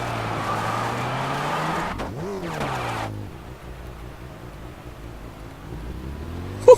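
Race car engine in the video game Test Drive Unlimited roars loudly at high speed, dips and swells sharply as it shifts or brakes near the two-second mark, then drops to a quieter steady drone with a brief sharp knock at the end.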